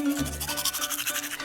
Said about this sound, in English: Time to brush those pearly whites.